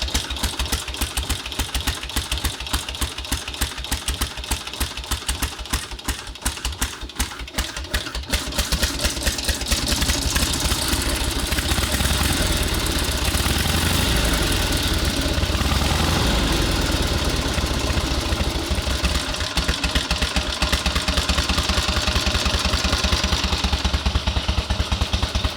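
A 1912 Excelsior motorcycle engine, 111 years old, runs loud and close, its steady idle rising into a denser, faster firing rhythm that holds without a break.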